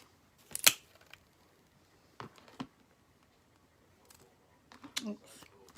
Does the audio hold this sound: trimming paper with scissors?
yes